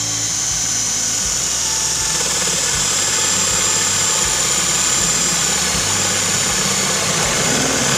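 A 20-volt cordless impact drill with a 1-inch spade bit bores through 1.5 cm mahogany, giving a steady, loud whirring drone with a grinding rattle underneath that holds throughout.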